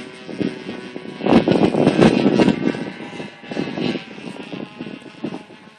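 A Piper Cub light propeller airplane engine running nearby, a rough droning roar that swells and eases over several seconds.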